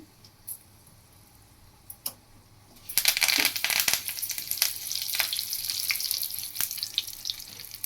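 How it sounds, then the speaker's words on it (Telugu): Mustard seeds, cumin, dried chillies and curry leaves hit hot oil with a sudden loud burst of crackling and spluttering sizzle that keeps popping steadily after a few quiet clicks. "ఆయిల్ బాగా కాగిపోయింది. కొంచెం ఆవాలు, జీలకర్ర, ఎండుమిరపకాయ, ఇవన్నీ బాగా వేగినాయి. కరివేపాకు వేసుకుందాం."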